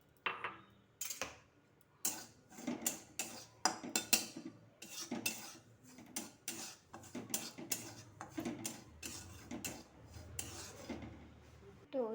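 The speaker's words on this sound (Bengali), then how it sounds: "তো ওইদিকে সুজি ভাজা হচ্ছে," Dry semolina being roasted in a wok on a gas stove, with repeated sharp scraping and clinking of a utensil against the pan in an irregular stirring rhythm, close and clear.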